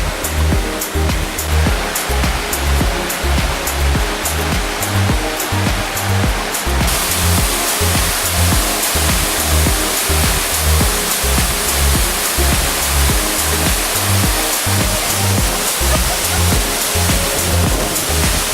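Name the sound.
waterfall on the Lost Waterfalls trail, Boquete, Panama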